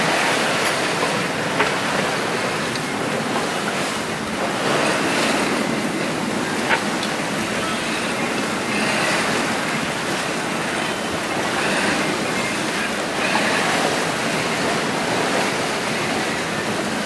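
Ocean waves rushing around a sailboat running fast on the open sea during a single-handed Pacific crossing, a continuous loud wash of water and hull noise with periodic surges and no voices.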